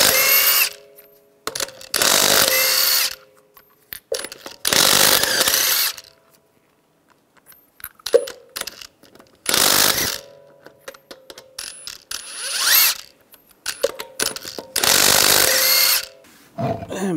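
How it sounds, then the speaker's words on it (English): A power tool with a 22 millimeter socket spins lug nuts off a Ram 1500 front wheel in loud, close bursts of one to two seconds, separated by short pauses and ratcheting clicks. "take the lug nuts off."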